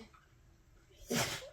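A single sneeze bursts out near the end after a stretch of quiet room tone, close and fairly loud, with a breathy broadband rush.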